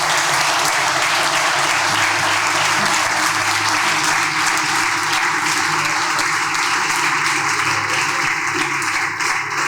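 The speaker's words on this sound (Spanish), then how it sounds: "y eso se merece un aplauso para Dios" A church congregation applauds loudly and continuously, a dense wash of clapping that fills the room from start to finish.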